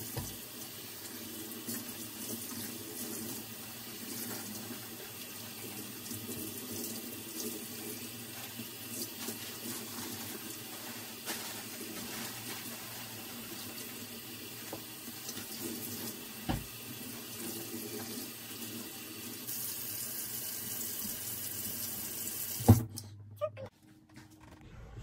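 A bathroom tap runs steadily while hair is washed in twists, a continuous close hiss of flowing water that stops abruptly near the end.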